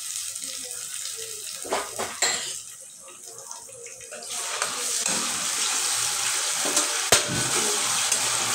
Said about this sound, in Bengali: এখানে আমি চাল আর ডালটা ভালো করে ধুয়ে